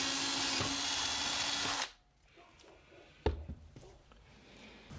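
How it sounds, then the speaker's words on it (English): A hand-held power drill whirs steadily while boring holes in robot chassis plates, then cuts out, leaving quiet handling clatter and a sharp knock. "it was just easier to drill it by hand"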